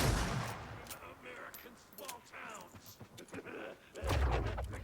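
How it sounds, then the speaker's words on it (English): Gunfire in the Alan Wake II video game, with several sharp shots scattered across the stretch and a heavier blast near the end, mixed with game sounds and faint voices. "Go for the kill shot."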